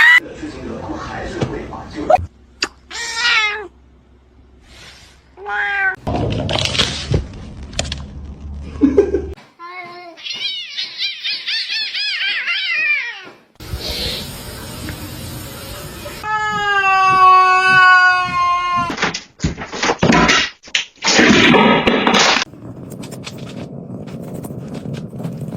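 A pet cat meows and caterwauls in long, wavering, drawn-out cries, loud and close, broken by gaps, thumps and handling noise, while people talk in between.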